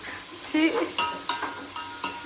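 Ingredients for a Sunday biryani fry in a pan with a light sizzle, cut through by several sharp clinks and scrapes of a utensil stirring against the pot.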